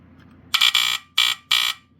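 The loud, harsh horn of a FireX hardwired smoke alarm blares in three bursts, the first longer and stuttering, then two short even blasts, close by with no talking.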